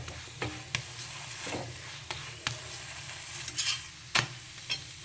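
Soft, steady sizzle of a methi paratha frying in a pan, with occasional sharp ticks and scrapes from stirring or turning, quiet and close.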